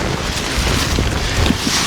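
Strong winter wind roars and buffets against a camping tent pitched in high winds, a constant loud rushing blast with microphone rumble and no talking.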